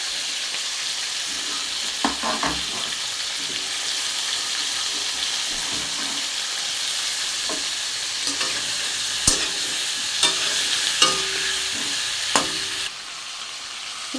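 Sliced vegetables with radish and tomato frying in a pan for a tengra fish curry, a steady close sizzle with occasional sharp clicks and stirring scrapes, no talk.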